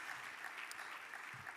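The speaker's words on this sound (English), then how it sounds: "a round of applause" Audience applause at a plenary luncheon of an annual meeting: a steady, even wash of many hands clapping that fills the moment, heard from within the room at moderate level.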